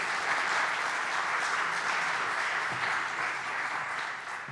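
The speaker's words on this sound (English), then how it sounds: "everybody welcome Silvia with a very warm applause" A tech summit audience in Lausanne gives steady, warm applause welcoming a keynote speaker to the stage, an even wash of clapping that eases off slightly near the end.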